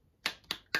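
A child claps hands three times, sharp separate slaps about a quarter second apart, close and fairly quiet in an otherwise silent room.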